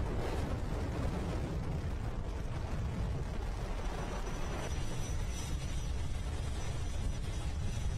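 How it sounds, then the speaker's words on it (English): A SpaceX Falcon 9 rocket, on the first reflight of an orbital-class booster, roaring at liftoff as a dense, constant, broadband rumble that fills the whole stretch at steady loudness with no pauses. "Liftoff, Falcon 9, we're going first reflight of orbital class rocket."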